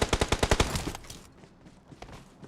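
Rapid burst of automatic gunfire from the mobile battle-royale game BGMI: about eight sharp, evenly spaced shots in quick succession, loud and close, then a quieter tail of distant scattered shots with faint background noise.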